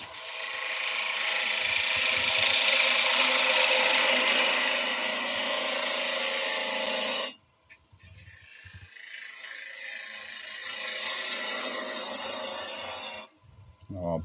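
A gouge cutting driftwood spinning on a wood lathe gives a loud, steady hissing scrape for several seconds, stops abruptly, then resumes more softly before cutting out again.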